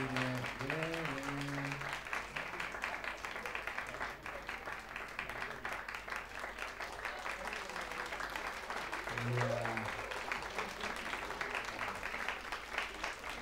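Sustained audience clapping at a live music cover performance, continuous and fairly even, with a voice speaking briefly over it near the start and again partway through.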